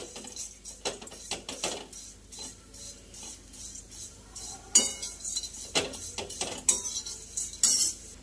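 Poha (flattened rice) being dry-roasted in a pan, stirred with a metal spoon that scrapes and clinks against the pan in an irregular rhythm, close and moderately loud, with no voices.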